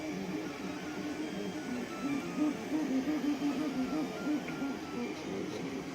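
An Anet A8 3D printer runs at high speed, its stepper motors whirring in a steady, rhythmic, pulsing hum at moderate distance with no talk.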